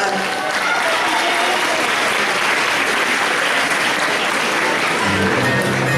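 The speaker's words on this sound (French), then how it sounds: "Applaudissez bien fort." Loud, sustained applause from a large crowd at a cosplay contest at a manga convention, a dense, even roar of clapping with some crowd noise mixed in.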